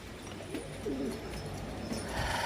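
Pigeons coo softly in a pigeon loft where newly hatched squabs are kept, with low murmuring calls under a faint steady background hum.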